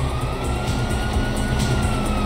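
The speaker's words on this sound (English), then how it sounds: "You hear that? Sirens." Police sirens wail continuously in the video game GTA V during a heist getaway, loud and steady under constant vehicle rumble.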